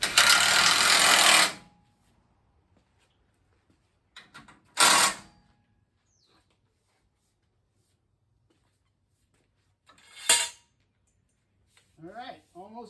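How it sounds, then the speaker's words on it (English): Heavy self-tapping screws are power-driven into the frame of a 1951 Hudson car in three separate short bursts of loud grinding whir, with quiet gaps between and a brief voice at the end. "I'll just use a heavy self-tapper like the factory uses to cut into the frames"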